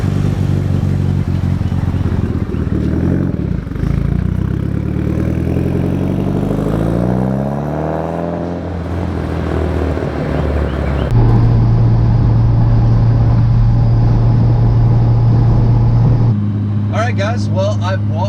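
A Mitsubishi Evo IX drives on the open road, with a steady, loud engine drone and road rumble that runs throughout. The engine pitch sweeps upward and then settles into a sustained hum.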